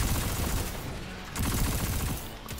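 Rapid bursts of gunfire from a weapon in the shooter game Destiny 2, two dense volleys separated by a short pause, fairly close but moderate in level.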